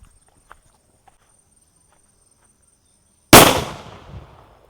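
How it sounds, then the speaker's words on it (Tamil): A nattu vedi, a country-made Diwali firecracker bomb, explodes with one sudden loud blast near the end, its boom ringing out and decaying for about a second after near silence, with only a couple of faint clicks before it. "இந்த பாம் நல்லா சவுண்டு சூப்பராக இருக்குது."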